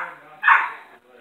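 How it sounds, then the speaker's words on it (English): A dog barks once in a short, fairly loud burst, with a speaking voice heard over it. "There's a crazy dog barking."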